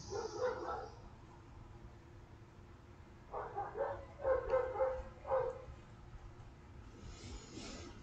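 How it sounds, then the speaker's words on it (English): Neighbor's dog barking in a hillside residential street, a few distant barks early on and a quick cluster of sharper barks midway, over a steady low background hum. "if you hear a dog barking in the background, it's just the neighbor's dog."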